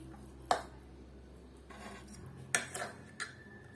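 Utensils clink and scrape against a bowl or plate while hot and spicy pancit canton noodles with extra hot seasoning are mixed, a few sharp close metallic taps over quiet, soft stirring.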